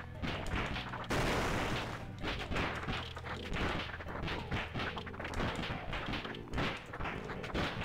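Rapid video game gunfire rattles in dense, overlapping bursts, loud and nearly continuous, with heavy thuds mixed among the shots.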